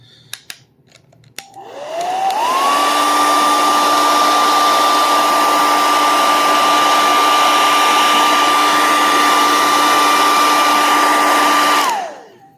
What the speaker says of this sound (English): I'm going to give it a little bit more heat. So just let me give me a second here while I blast this